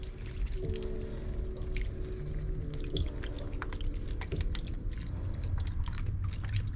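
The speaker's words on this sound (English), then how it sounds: "we're going to add some vegetable broth" Vegetable broth pours steadily into a pot of chili, a continuous splashing, trickling wash that lasts several seconds, close and fairly loud, with no talking.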